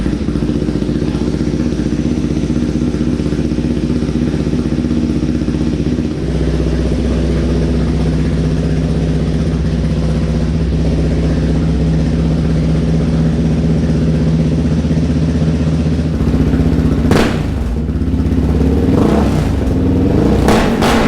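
Yamaha Raptor 700 ATV engine idling steadily and close, with a bare rumbling tone, then blipped into a few sharp revs near the end.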